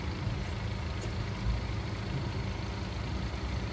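A motorhome's engine idles and rumbles at low pitch while it manoeuvres aboard a ferry, a steady heavy drone with no talk.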